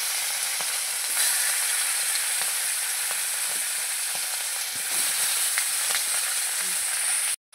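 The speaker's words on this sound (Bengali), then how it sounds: "এদিকে আমি ভাজাটা বসিয়ে দিয়েছি" Potatoes fry in a pan with a constant close sizzle and crackle, scattered ticks and pops running through it, before the sound cuts off abruptly near the end.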